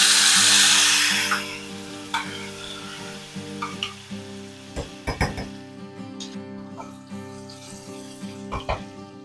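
Chopped tomato drops into hot tempering with asafoetida and turmeric for potato curry, bursting into a loud close sizzle that fades within two seconds, followed by quieter crackling and several sharp spoon-and-pan knocks.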